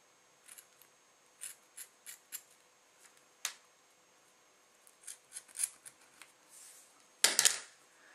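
Scissors snipping paracord while tying a snake knot: a string of sharp, quiet, close cuts and clicks at irregular intervals, ending in a louder rustle, with no voices.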